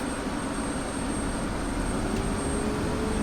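F-16 jet engine idling in the DCS flight simulator, cockpit view during startup: a steady, even broadband roar with a thin high whine above it, constant and close throughout, no talk.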